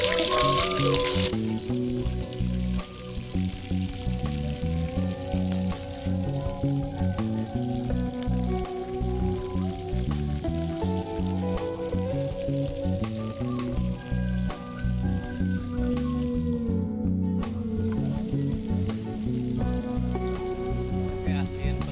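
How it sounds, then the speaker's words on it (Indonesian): Salted fish frying in a pan with spicy seasoning, a loud, dense, steady sizzle and crackle that carries on alone for about twenty seconds with no talking. "kita goreng asin dulu"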